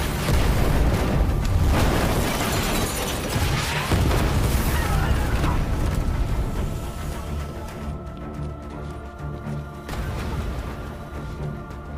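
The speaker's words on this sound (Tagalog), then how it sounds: "dinaanan ng truck ang kanilang mga patibong dahilan upang sumabog ang kanilang sasakyan" A truck drives over a trap and explodes, a loud, sustained blast roaring with crashing debris and rumbling, then slowly fading into a lower rumble.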